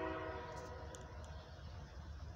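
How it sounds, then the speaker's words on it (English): An eastbound mixed freight train approaches, its horn sounding in sustained tones at first and fading into a steady low rumble of rolling cars and wind noise. "Got an eastbound train coming."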